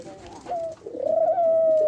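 A nesting dove coos close by in its cage, a low murmur rising into a drawn-out, wavering hoot that swells and holds near the end, with no speech.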